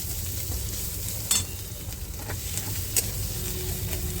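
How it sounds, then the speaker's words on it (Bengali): Ghetkol leaf paste fries with onion in a pan, giving a steady close sizzle broken by a few sharp scrapes and clinks of stirring, with no voices. "এই যে এখন এটা একসঙ্গে একটু আর একটু ভেজে নেব"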